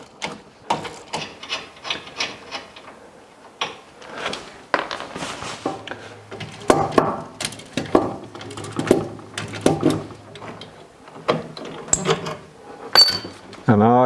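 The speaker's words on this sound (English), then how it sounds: "I'm going to start by undoing the U-bolts that holds the spring" Close tools loosen the U-bolts holding a transverse leaf spring on a rat rod front axle, with dense rasping, ratcheting and scraping metal bursts throughout and a person talking at points.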